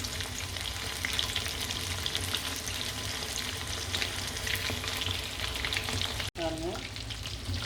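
Chicken 65 pieces fry in a pan of oil over medium heat, giving a steady, close sizzle and crackle throughout with light stirring, briefly broken by a short gap near the end.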